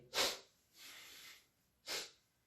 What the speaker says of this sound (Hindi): सॉरी छींक आने वाली है लेकिन आ नहीं रही है।